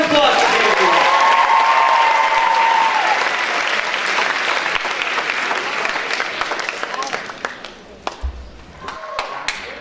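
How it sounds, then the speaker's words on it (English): Audience applause at a pageant, loud, dense clapping that fades gradually into scattered claps and thumps, with voices talking over the tail. "Let's hear another round of applause for David DeWild."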